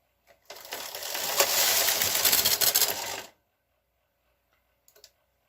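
A knitting machine carriage sweeps across a row of a tank top front, making one close, continuous rattling whir for about three seconds before stopping, followed by a faint click in the quiet.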